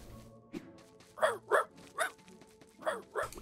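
Dog barking in the Staxel video game, several short sharp barks and yips in an irregular burst over soft game ambience, fairly close and clear.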